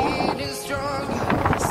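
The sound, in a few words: strong wind blowing outdoors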